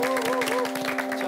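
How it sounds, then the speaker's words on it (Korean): A Korean studio talk-show audience applauds with a dense, steady patter of clapping that fills the whole moment, with sustained music tones running underneath. "박수를 쳐게 되겠습니다."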